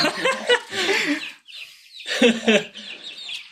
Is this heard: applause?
no